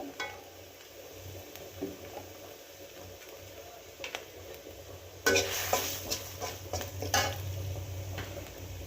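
Turmeric hits hot oil in a pan with a soft sizzle, followed by louder stirring and scraping of a utensil against the pan, with metallic clinks toward the end.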